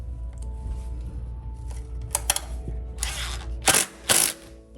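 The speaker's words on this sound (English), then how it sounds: "go ahead and put in your 5/8 torque screw" A 5/8 torque screw is driven into a restroom partition shoe, with ratcheting mechanical clicks and a few sharp bursts near the end, close and fairly loud.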